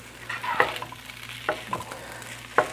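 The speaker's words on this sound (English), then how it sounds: "You see the egg is starting to set up, then you can start stirring it around." Egg is stirred into chicken fried rice in a hot pan, a soft background sizzle punctuated by a few distinct clinks and scrapes of the spatula at irregular intervals.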